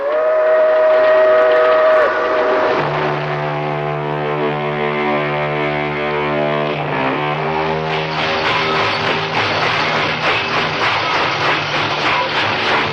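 Freight train sound effect from a radio drama: a loud, steady whistle blast opens, then a long rumbling roll of the moving train with layered horn-like tones and rhythmic clatter building toward the end, with no voices.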